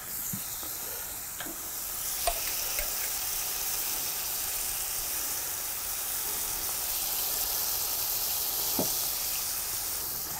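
Pork burger patties fry in a pan with a steady, soft sizzle and hiss throughout, broken by a few faint clicks and light utensil taps, with no voice heard.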